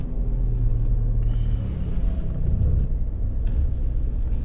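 A 2007 Hummer rolls along with a low, steady engine rumble and road noise heard from inside the cabin, loud and continuous throughout.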